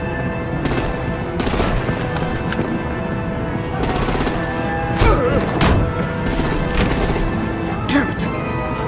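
Artillery and gunfire in a Batman Telltale video game, with loud, dense bursts of automatic fire and heavy booms over a steady background rumble.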